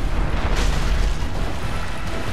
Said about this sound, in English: I'm getting as far away from him as I possibly can as he's charging up that explosion